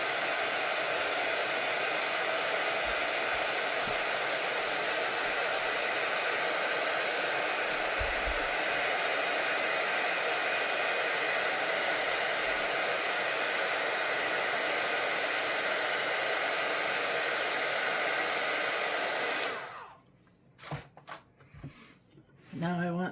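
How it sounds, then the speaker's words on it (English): A hair dryer blows steadily for about twenty seconds, drying watercolor paint on a flower painting. The loud, even whoosh then cuts off, leaving only faint handling noises. "You can use a hair dryer."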